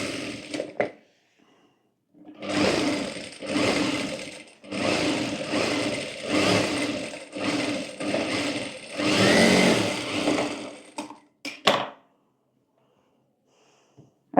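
A sewing machine stitches around a coat collar backed with canvas, running in several steady whirring bursts of a few seconds each, separated by short pauses and ending in quick stops.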